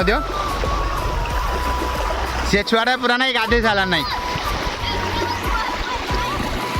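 Floodwater rushes through a village in Odisha as a constant loud hiss and roar of moving water, with a brief splash, under someone talking close by.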